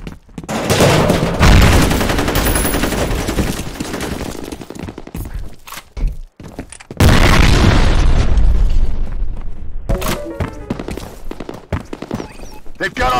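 Grenade blasts and bursts of gunfire in the multiplayer shooter F.E.A.R. Combat, with loud booming explosions and rapid shots filling the whole clip, a short lull near the middle and player voices talking over the battle.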